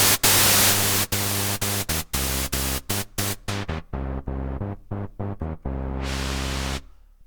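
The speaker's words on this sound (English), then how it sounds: "So that's white noise," Harsh white noise from a Behringer Kobol Expander synthesizer hisses loudly, chopped into rapid bursts and gaps of varying length, then holds steady before cutting off, with a low hum underneath.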